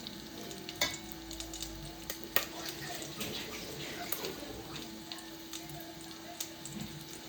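Ginger sizzles steadily as it is fried in olive oil, with a spatula scraping and clacking against the pan at irregular intervals, close and fairly loud.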